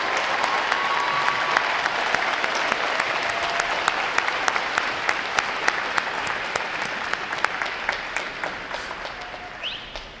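A large crowd at a Navy boot camp graduation at Recruit Training Command applauds veterans as they stand, sustained dense clapping in a big reverberant hall with sharp individual claps, lasting about ten seconds before easing.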